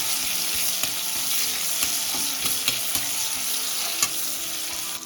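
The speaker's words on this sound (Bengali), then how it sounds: "পেঁয়াজটা দিয়ে হালকা ভাজা ভাজা করবো।" Onions frying in a thin layer of oil for a Bengali shol fish jhol, a steady close hiss of sizzling with faint utensil taps and stirring scrapes scattered throughout, no voices.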